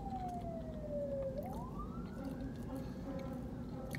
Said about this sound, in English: I heard an ambulance, see?